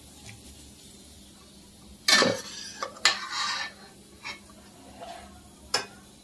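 A cooked onion and tomato mixture is scooped from a pot into a metal mixer jar, with scattered spoon scrapes and a few bright metallic clanks against a quiet kitchen background.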